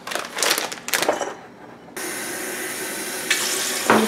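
Tap water runs into a measuring jar holding a cup of raw cashews: a few splashy bursts, then a steady, close, rushing stream that grows a little brighter near the end.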